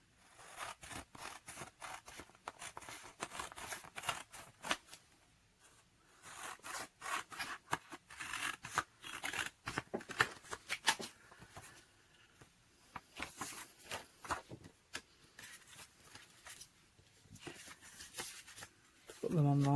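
Paper scraps being folded and rubbed around the edges of a handmade no-sew journal, with close, irregular crinkling and scraping strokes over quiet talk.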